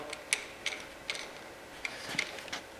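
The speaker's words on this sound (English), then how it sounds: "I'm actually turning the motor over." A 427 big block Chevy engine being turned over by hand during assembly, giving a series of sharp, quiet mechanical clicks and ticks spaced irregularly, close by with no talk.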